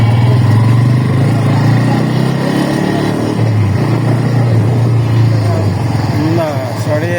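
A Bajaj Pulsar N160 motorcycle engine drones steadily while being ridden, loud and near, its pitch rising and easing slightly, with wind rush over it and a brief shift near the end.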